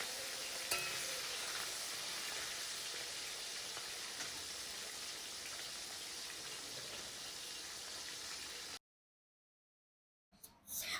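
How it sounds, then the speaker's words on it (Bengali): Fish rubbed with salt and lemon frying in a pan gives a steady, fairly loud broadband sizzle for about nine seconds, then sudden silence before a brief burst of sizzling returns. "মাছগুলো ততক্ষণ ভাজতে থাকুক,"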